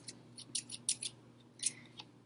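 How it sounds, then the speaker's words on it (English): Faint, scattered snips of scissors cutting a square of blank paper, a handful of short crisp clicks spaced irregularly over a quiet background hum. "You'll take your scissors"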